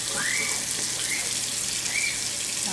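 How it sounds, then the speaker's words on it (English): About a cup of water poured into a cooking pot on a kitchen stove, a steady close splashing rush that runs unbroken under a few faint high whistling chirps. "I'm gonna put about a cup of water in."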